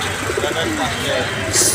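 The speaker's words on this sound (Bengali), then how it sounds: "এদিকে দেখতেছেন সুন্দর সুন্দর কিছু কবুতর" Pigeons coo at a busy pigeon market in Hasnabad, Bangladesh, with soft, repeated calls under a steady crowd murmur and some background voices.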